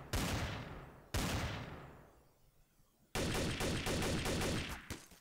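Gunfire from a player in the game Trouble in Terrorist Town: two loud, sharp shots that ring out and decay, followed by a rapid, close volley of repeated shots, with no talking.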